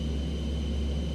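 Bleed air noise in the cockpit of a Carenado Premier 1A business jet in a flight simulator, a steady dense roaring hiss with a low rumble and a faint high whine, constant and unbroken.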